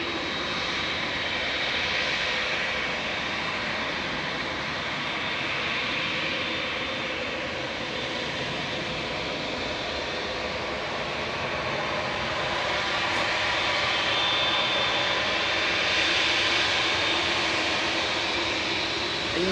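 A TUI Boeing Dreamliner jet, eleven years old, lining up for takeoff at Manchester Airport, a continuous engine roar with a thin high whine, steady and close throughout.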